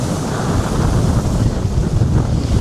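Strong wind roars across the microphone at a flooding seafront promenade, with heavy waves surging and crashing against a sea wall in a continuous, loud, blustery wash with no talking.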